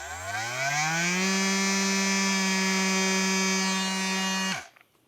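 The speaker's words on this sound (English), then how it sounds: "they suggest using an oscillating tool such as, you know, one of these" Oscillating multi-tool spun up for a slow test cut on a Stihl MS462 chainsaw part, a buzzing whine that rises, holds steady and loud for several seconds, then cuts off abruptly.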